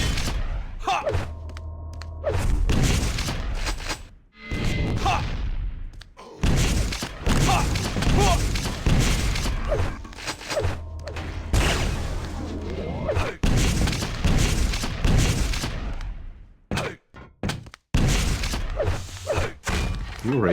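Rocket explosions from a Quake Live duel between RAISY and swex, loud repeated booming thuds and blasts in rapid bursts with brief gaps, dense game action throughout.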